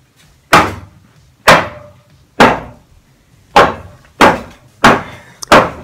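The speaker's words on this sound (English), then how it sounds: "The purpose of beating it with the hammer is to make it look old and rickety and worn." A hammer beats on wood to make a medieval pillory prop look old and worn, landing seven loud, sharp, close blows with a short pause after the third strike.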